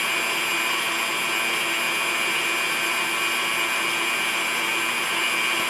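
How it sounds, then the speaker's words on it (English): An electric mixer beats egg whites for a frosted sheet cake with a loud, steady motor whine that holds unchanged throughout, close by and with no talk. "while the egg whites are beating"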